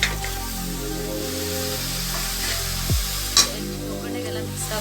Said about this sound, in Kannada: ಈಗ ಇದಕ್ಕೆ ಅರ್ಧ kg ಅಷ್ಟು ಚಿಕನ್ ಹಾಕೊಳ್ಳೋಣ.